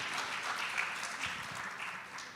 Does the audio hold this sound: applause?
yes